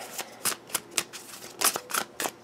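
Tarot cards being shuffled by hand, a run of crisp riffling bursts and soft slaps in an uneven rhythm, close and fairly quiet with no talk.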